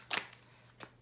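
A deck of tarot cards gets a quick shuffle at a table: two brief, soft riffling bursts a little over half a second apart, quiet and close, with no talking.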